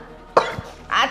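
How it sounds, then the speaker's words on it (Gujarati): A single person coughs a few times indoors during a family quarrel in a Gujarati drama film: one sharp cough, a short pause, then a harsher second burst, close and fairly loud. "તારા બાપા હારે બોલી બોલીને મને ઉધરસ થઈ ગઈ છે."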